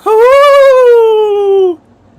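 A voice imitates a wolf howl: one loud, sustained, slightly rising then falling tone lasting nearly two seconds before cutting off into quiet.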